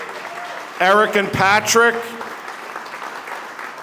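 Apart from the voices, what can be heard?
audience applause at a fundraiser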